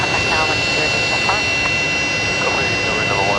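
Fokker jets with Rolls-Royce Tay engines run at Brisbane Airport at night, a loud droning engine whine with steady tonal hum, close by, with brief voice fragments mixed in.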